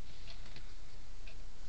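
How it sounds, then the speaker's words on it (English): The dashboard clock of a 1979 Mercedes-Benz 450 SL convertible ticks faintly at a steady pace inside the cabin, its soft clicks set against a constant low hum. "Clock, you can hear it barely, maybe."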